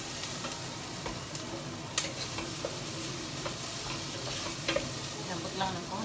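Onions frying and starting to brown in a pan for salmon sinigang, a faint continuous sizzle with occasional light clicks and utensil taps and no talking.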